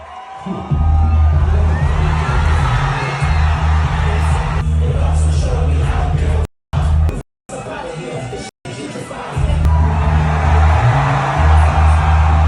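Concert crowd cheering and screaming as the artist walks out from backstage, a loud roaring mass of voices with yells and whoops, briefly cut by a few gaps of silence before the roar resumes over low bass.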